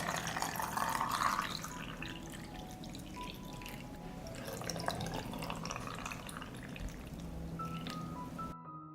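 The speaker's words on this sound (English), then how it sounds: "I pour water into the jar to cover the strawberries." Water pours and trickles into a jar of strawberries, a steady splashing stream with drips that stops abruptly at the end, close and fairly quiet.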